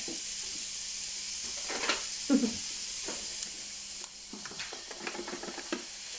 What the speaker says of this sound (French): On va pouvoir faire les lardons.